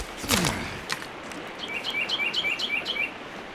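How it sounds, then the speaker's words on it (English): Small birds in the game Sons of the Forest chirping in a quick series of bright, high tweets over steady ambient noise, following a louder burst of sound at the start. "Those bird noises sound good too."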